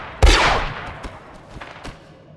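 Blaster gunfire in Star Wars: The Old Republic, opening with a loud sharp shot followed by several quieter scattered zaps fading into the distance.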